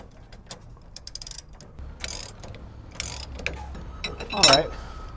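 A ratchet wrench tightening trac bar bolts, using a 1 1/8 socket and a 7/16 Allen, on a Ford E450 V8 chassis gives bursts of quick mechanical clicking amid workshop clatter and a sharper ratcheting spurt near the end.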